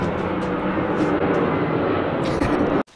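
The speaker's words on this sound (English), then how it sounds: "There's an airplane in the air." An airplane flying overhead produces a steady, loud roaring drone throughout, ending abruptly near the end.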